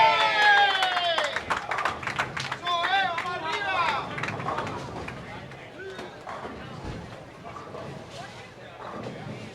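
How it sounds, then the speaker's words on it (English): Crowd at a junior bowling tournament final round, loud early with cheering and clapping, then settling into a steady murmur with scattered claps and pin noise, under continuous talk. "Crowd getting a little bit louder here as the tournament starts to wind down"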